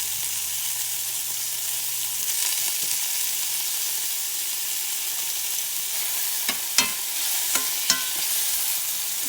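Two strips of bacon fry in a pan with a steady, close sizzle and hiss, punctuated near the end by a few sharp pops and spatula taps, and no voices.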